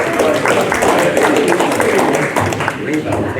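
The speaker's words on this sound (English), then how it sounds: "Please give him a round of applause." A crowd of seniors at a community center claps for a speaker walking on stage, a loud, dense burst of applause that thins slightly toward the end.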